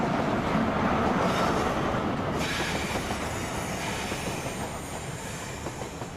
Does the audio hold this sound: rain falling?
no